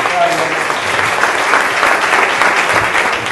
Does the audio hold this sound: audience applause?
yes